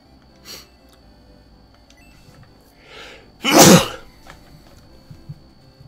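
A single sharp sneeze bursts out loud and close partway through, preceded by a couple of faint breathy sounds, with quiet background otherwise.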